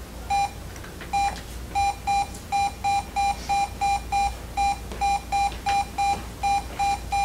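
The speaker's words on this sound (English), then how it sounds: "Let me turn off this alarm so it's not obnoxious." Repeated electronic alarm beeps from a monitor during an EKG lesson, a steady train of short high pulses in quick groups, loud and clear with no talking.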